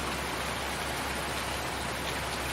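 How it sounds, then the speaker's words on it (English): Rain in Farming Simulator 19 during a field spraying session, a dense, even hiss of falling rain filling the whole stretch, no talk. "Yeah, you can spray in the rain."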